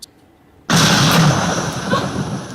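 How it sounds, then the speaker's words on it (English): A sudden loud explosion bursts in after a quiet moment, a broad roaring blast that holds steady and slowly trails off without fading out. "that was an explosion"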